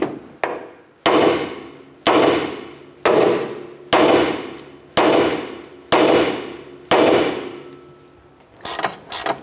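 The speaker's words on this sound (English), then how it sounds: "Now we're going to go ahead and strike our knuckle, and this should release our upper ball joint." Hammer blows ring out on the steel steering knuckle of a 2008-2012 Honda Accord to pop loose the upper ball joint, about eight loud, evenly spaced metallic strikes, each decaying before the next, close and with no talk.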